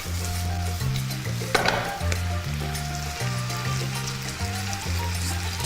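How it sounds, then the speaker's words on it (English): Sauce reducing in a pan with paprika, giving a steady, close hiss of sizzling that runs unbroken under faint music, with one brief louder burst partway through. "I'm just allowing my sauce to reduce"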